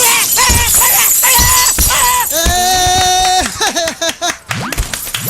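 Glass shatters with sharp cracking bursts amid a chaotic, loud comedic scene layered with music-like tones and clattering hits, the bursts recurring through the first seconds before fading into scattered knocks.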